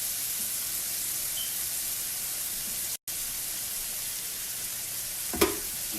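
Chicken dusted with flour browning in a pan gives a steady, close sizzling hiss, with a short utensil clatter near the end.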